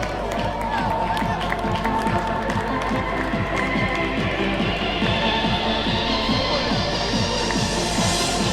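Audience at a triathlon prize-giving applauds a winner in a long, steady wash of crowd noise with rhythmic claps, loud and continuous, with voices mixed in.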